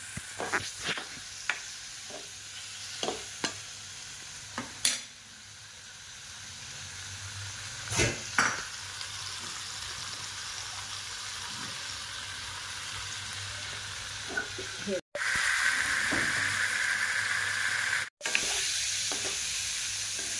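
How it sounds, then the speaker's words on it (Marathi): Paneer cubes frying in a pan for paneer butter masala, a steady close sizzle throughout with occasional clinks and stirring scrapes, growing louder and brighter in the later part with a couple of brief cuts; no talking. "त्याच्यामुळे आपण थोडंसं फ्राय करून घेऊ"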